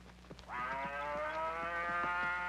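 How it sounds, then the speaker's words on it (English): A cow on a farm in dry country in Mexico gives a single long, loud moo that starts about half a second in and holds steadily to the end, with faint background clicks and no voices. "we have cows too, and always we must find a place for them to eat."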